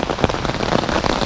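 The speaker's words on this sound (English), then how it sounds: "It's raining right now, but guess who has an umbrella?" Steady rain falls on surfaces at a Methodist cemetery in Tampa, Florida, a dense close patter of drops throughout with no voices.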